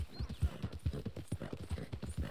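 A horse galloping in the video game Red Dead Redemption 2, rapid rhythmic hoofbeats thudding close and steady throughout, with no talk over them.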